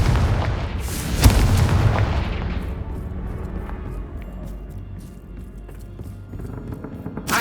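Confringo fire spell blast in Hogwarts Legacy, a booming burst early on that rumbles and fades into a long decaying tail, followed by fainter crackles and small impacts.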